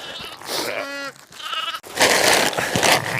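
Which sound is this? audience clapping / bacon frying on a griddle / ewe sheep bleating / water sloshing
ewe sheep bleating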